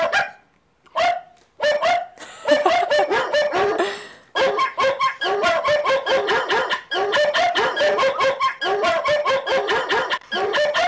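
Young men imitate dogs with their voices, letting out rapid, loud, close bursts of barking and yelping in long runs with brief pauses, some calls sounding almost like clucking fowl.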